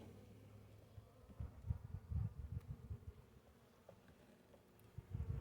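Bees buzz softly around a hive during a late-winter inspection, the hum swelling in uneven bursts, faint and close, with light rustling.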